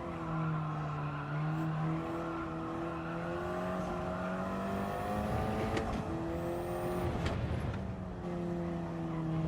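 A Formula 1 race car in a racing video game revs and shifts through gears, engine tones climbing and dropping, with bursts of tire squeal and skidding in the middle, moderately loud with no speech.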